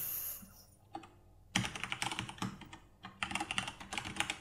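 Rapid keystrokes on a computer keyboard enter an Angular CLI generate-component command, heard as two close, quiet bursts of clattering typing with a short pause between them and no talk.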